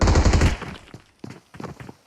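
Machine gun fire in the video game BGMI: a loud rapid burst of shots up front, followed by a few separate shorter volleys with small gaps between them.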